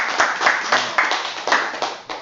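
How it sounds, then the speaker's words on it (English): A small group gives a reader a brief, sparse round of clapping, a few distinct claps landing in loose rhythm, near and moderately loud, with no talk over them. "Come on, we give this guy a round of applause."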